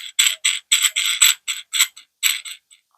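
A nut is turned by hand onto a bolt through a steel washer and a piece of wood, giving a series of about a dozen short, close, clicking ratchet-like scrapes in an uneven rhythm, with no talk.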